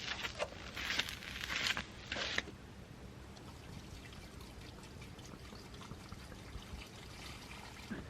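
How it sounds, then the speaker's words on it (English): Liquid fertilizer is poured into plastic milk jugs, giving a close gurgling, splashing pour for a couple of seconds that settles into a softer, steady trickle. "I'll just add fertilizer to these jugs,"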